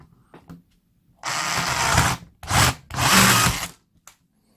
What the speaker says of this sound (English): I understand not everybody's going to have a miniature chainsaw at home, This is the Bosch Easy Cut 12.